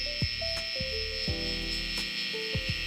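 Electric hair trimmer buzzing steadily with a high whine, close up, while cutting a high taper waves haircut at a barber chair, with brief pitch shifts as the blades move through hair.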